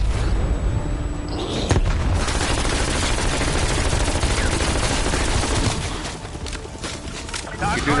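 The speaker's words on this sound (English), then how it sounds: "Throwing frag." Frag grenade explosion amid heavy gunfire in Call of Duty Cold War zombies, a dense barrage of shots and booms that fades near the end.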